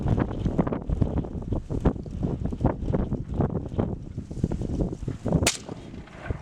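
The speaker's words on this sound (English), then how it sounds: "That wind's getting a little crazy." Strong wind buffets the microphone at an outdoor shooting range, a continuous rough rumble with gusts, and a single sharp gunshot cracks near the end.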